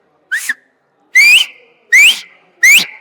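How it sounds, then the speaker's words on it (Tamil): Four loud, sharp rising whistles ring out one after another with short gaps, close to the listener, at a public review outside a screening of the Tamil film Parisu. "அசலுக்கு ஒரு விசில்."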